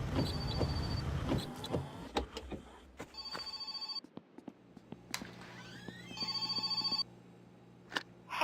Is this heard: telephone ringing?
yes